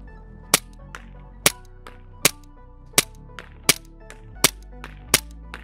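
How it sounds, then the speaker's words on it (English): A B&T USW A1 CO2 gas blowback airsoft pistol by ASG firing 0.25 gram BBs at targets: seven sharp, snappy shots with crisp metallic cracks, spaced about a second apart over a quiet background, with no talking. "I'm gonna shoot at the closer target first."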